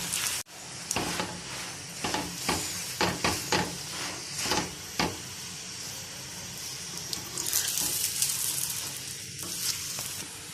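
A dal-stuffed paratha fries in ghee on a pan with a steady close sizzle, punctuated by a series of spatula taps and scrapes as it is flipped and pressed. The crackle swells louder toward the end.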